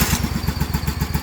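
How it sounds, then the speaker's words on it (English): Small lawn mower engine, freshly fitted with a new starter but with one dead cylinder, running with a rapid, uneven chugging putter close up. "she starts and runs now since I got a new starter."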